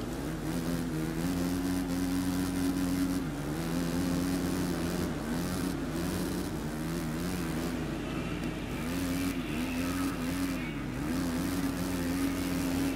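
A motocross motorcycle engine in the MXGP3 video game, raced in the rain, drones steadily throughout, its pitch rising and dipping as the bike accelerates and eases off.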